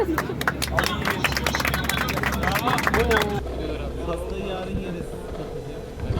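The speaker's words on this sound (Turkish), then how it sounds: "Bir alkış." A group gives rapid, dense clapping for a birthday celebration, mixed with voices and crowd chatter for about three seconds before it cuts off. Quieter background noise follows.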